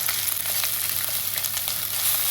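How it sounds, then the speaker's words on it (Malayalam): Ginger and garlic sizzle steadily in hot oil in a pan for Kerala-style fish head curry, a continuous close crackling hiss with small pops and no voices. "ഓക്കെ, ഇഞ്ചിയും വെളുത്തുള്ളി ഇട്ട് കഴിഞ്ഞു."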